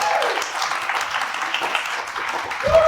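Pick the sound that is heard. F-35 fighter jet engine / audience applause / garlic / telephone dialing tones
audience applause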